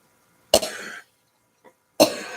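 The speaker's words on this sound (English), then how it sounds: "My stinking sinuses drip and make me cough." Two harsh coughs from a person with dripping sinuses, each a sharp burst trailing off over about half a second, with a brief quiet throat sound between them; close and loud, no talking.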